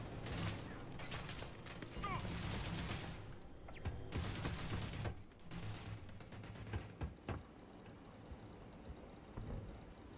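Sustained bursts of rapid automatic fire from a hacked sentry turret in the sci-fi game Starfield, loud and dense for several seconds, pausing, then resuming in further heavy volleys amid scattered impacts.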